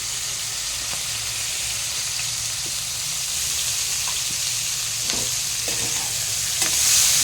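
Onions and tender tamarind leaves fry in a pan for a bitter gourd dish, giving a steady close sizzle with a few soft stirring clicks and a brief hiss of steam near the end.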